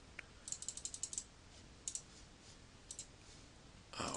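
Calculator keys pressed while a number is entered, a quick run of light plastic clicks followed by a few scattered single taps and a final louder clatter, close and otherwise quiet.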